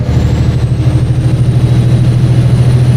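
A heavy truck engine idling loudly and steadily up close in -30 Celsius cold, a deep continuous rumble with no voices.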